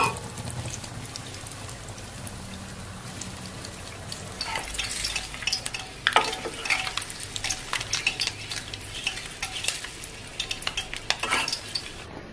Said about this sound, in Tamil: முட்டையை வேக வச்சு மிளகாத்தூள் போட்டு வச்சிருக்கேன். அதை அப்படியே ஃப்ரை பண்ணிக்கலாம்.